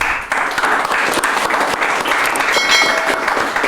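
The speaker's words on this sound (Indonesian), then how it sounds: "Kita berikan tepuk tangan untuk Ibu Elsa." Applause for Ibu Elsa at a company gathering where she is named CEO: a room full of people clapping steadily and briskly, loud and close, without pause for several seconds.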